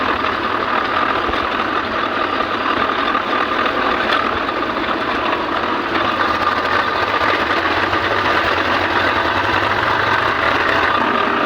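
A tractor engine runs steadily and loudly throughout, stuck in a farm field, a constant idling rumble with a faint mechanical rattle and no pauses.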